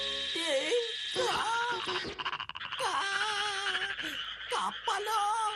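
Cartoon frogs croaking in a Ninja Hattori animated film, a loud, close chorus of warbling, pitch-bending croaks in repeated bursts with brief gaps.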